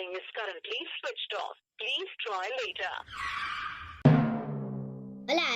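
A phone call to a switched-off number, where talk gives way to a burst of line noise and then a steady, buzzing telephone tone before voices return.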